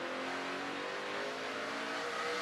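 A NASCAR Truck Series race truck at Daytona or Martinsville revs hard, a steady, dense engine roar heard from a distance that holds throughout without a break.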